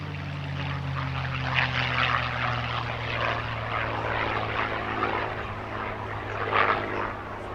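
A piston-engine warbird propeller plane, part of a parade of P-51D, P-40 and TBM aircraft at the Bethpage Air Show over Jones Beach, drones steadily overhead with a deep sustained engine hum and rising, swelling passes, loud and continuous.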